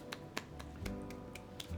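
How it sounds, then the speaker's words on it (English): Hand claps, about seven sharp, quick and fairly faint, in an uneven rhythm over a low steady background hum, with no talking. "That's a clap."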